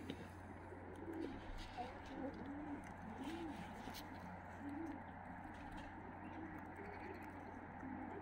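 Fighting pigeons kept in a yard in Tbilisi, Georgia, cooing in soft repeated rolling calls close by, over a steady low hum.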